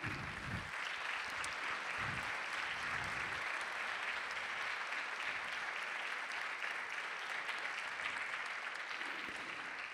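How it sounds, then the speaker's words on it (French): Sustained audience applause greeting five speakers as they come on stage at a conference on planetary consciousness, steady dense clapping filling the whole stretch with no pauses. "je vous demande de les applaudir"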